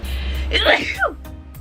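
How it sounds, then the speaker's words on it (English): A single sharp, close sneeze bursts out after a short breathy build-up, followed by a brief spoken reaction. "Oh, you stopped my other sneeze."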